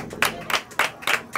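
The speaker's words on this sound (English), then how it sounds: "Y'all give him a big round of applause." Applause at a stock car race event, heard as a few spaced bursts of clapping, about four or five distinct swells in quick succession, fairly close and clear.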